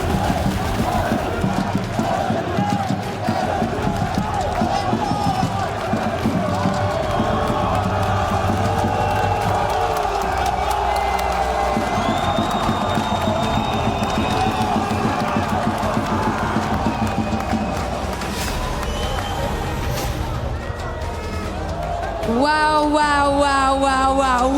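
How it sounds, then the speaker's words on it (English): An esports arena crowd at a Call of Duty match between Falcons and GentleMates roars and cheers loudly and continuously in a sustained wall of noise, with shouting voices and a commentator's excited speech breaking in at the end. "What a noise, what a crowd"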